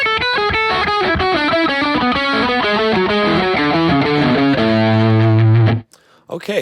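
Heavily distorted electric guitar plays a fast picked pattern of repeating notes, loud and steady, ending on a sustained low chord that cuts off abruptly.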